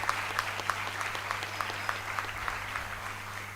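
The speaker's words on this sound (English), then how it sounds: "Can we have one more round of applause for these graduates, please?" Applause from the audience at the NIMHANS 2021 graduation ceremony for the graduating batch, a steady crackle of many hands over a constant low electrical hum.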